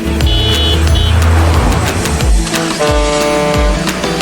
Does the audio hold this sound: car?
yes